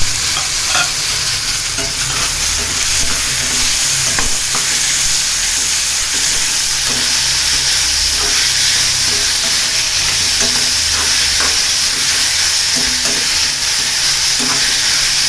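Onion and tomato sauté in a pan with a loud, continuous sizzle and hiss, broken by frequent stirring scrapes, close and steady throughout with no voices.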